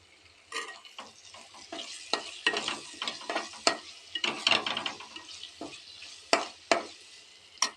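Chopped ridge gourd frying in oil with chilli powder, being stirred in a pan with a string of sharp scraping strokes and bursts of sizzle, close and fairly loud, no voices.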